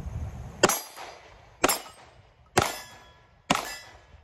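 Sig Sauer P365 X Macro pistol firing, four sharp metallic reports spaced about a second apart, each with a brief ringing decay, heard at moderate distance outdoors with no talk.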